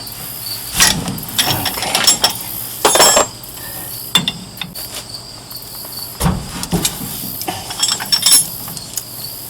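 Metallic clinks and ratcheting clanks of a double wrench loosening bolts on the rear brake of a 1999-2007 GMC/Chevrolet Sierra/Silverado 1500 truck, coming in several irregular bursts close by, with a brief spoken word.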